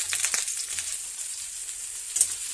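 Potatoes and onions frying together in a pan at home: a steady, close sizzle with a few sharper crackles and spits scattered through it, and no voices.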